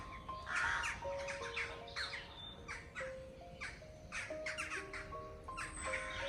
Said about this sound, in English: Look at those birds up there. Hundreds of them. More coming in.